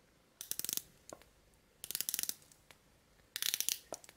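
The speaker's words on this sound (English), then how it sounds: "That is loud clicking." Bursts of loud, rapid clicking from a Longines watch mechanism, three clusters of sharp ticks spaced about a second and a half apart with single clicks between, close up and with no voices.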